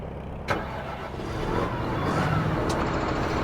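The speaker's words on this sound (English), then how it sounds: "We're gonna switch over to our tractor." A tractor engine in Farming Simulator 2015 rumbles steadily and loudly, building slightly after a brief click, with a continuous mechanical drone throughout.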